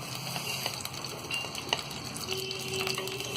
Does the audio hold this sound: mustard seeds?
yes